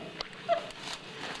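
A dog chewing a bone lets out one brief, faint whimper, with a few soft rustles in a quiet indoor room.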